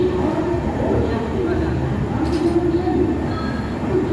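Indian passenger train pulling out of Itarsi station, a steady low rumble of wheels and carriage filling the background without pause, with faint metallic touches and a voice briefly talking over it.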